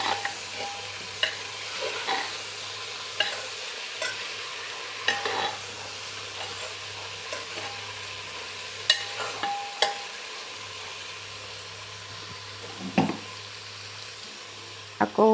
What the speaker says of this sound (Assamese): এয়া দি দিম এতিয়া আকৌ মই ভালদৰে লৰাই ল'ম